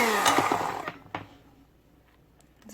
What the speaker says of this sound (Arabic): هفضل اضرب فيها لغايه لما هتبقى كريمي